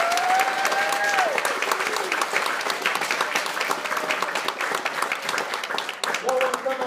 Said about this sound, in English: let's give these kids another round of applause